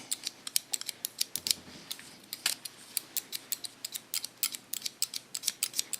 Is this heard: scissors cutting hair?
yes